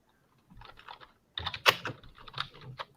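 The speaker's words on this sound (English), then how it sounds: "That is some good quality rage typing" Fast, forceful rage typing on a computer keyboard, a short burst of clacking keys, then a louder rapid flurry of hard strikes, close up and alone.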